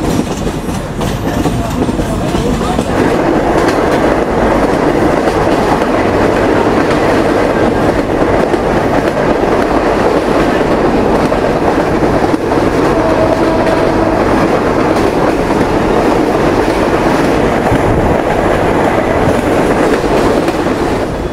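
The Rupsha Express intercity train runs after leaving Chuadanga railway station in Bangladesh, a loud continuous rumble with rhythmic wheel clatter heard from on board.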